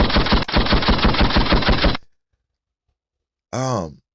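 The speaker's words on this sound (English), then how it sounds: "Gunshots." Gunshot sound effect: a fast burst of automatic gunfire for about two seconds, loud and close, followed by silence and then a short grunting vocal sound.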